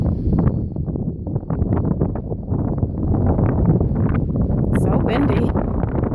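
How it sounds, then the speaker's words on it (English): Strong wind buffets the microphone on an open hiking trail along a reservoir, a loud, continuous rumble with rapid gusty bursts while someone speaks over it. "So windy."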